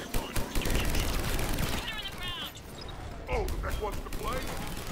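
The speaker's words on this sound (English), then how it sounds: "I'll distract with this gun." Rapid bursts of gunfire from a weapon in Mass Effect 3 crackle densely across the stretch, mixed with game sound effects and chirping tones, with a voice talking over part of it.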